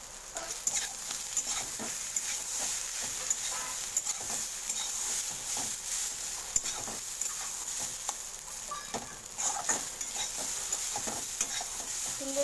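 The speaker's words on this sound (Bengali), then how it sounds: "নাড়িয়ে নাড়িয়ে এটাকেও ফ্রাই করতে হবে বেশ কিছুক্ষণ ধরে" Pasta tossed in with fried Chandramukhi potatoes is stirred continuously in a hot pan, giving dense, busy scraping and rattling over a constant sizzle, close and fairly loud throughout.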